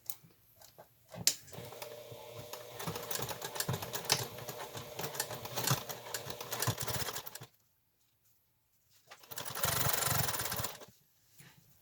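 A sewing machine stitching a quilt block being made into a hot pad, a close whirring, clattering run of several seconds, a pause, then a second short burst.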